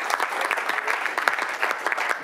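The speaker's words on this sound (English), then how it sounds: "give yourselves a round of applause for making it out here on a Tuesday morning" A morning audience at a talk on music and nonviolent action bursts into steady, moderately loud applause, dense clapping sustained throughout.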